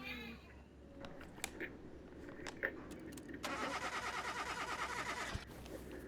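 In the video game Car Mechanic Simulator 2021, a Ford F350 engine in need of replacement cranks with a rapid, even starter chug for about two seconds after quiet workshop clicks, then stops without catching.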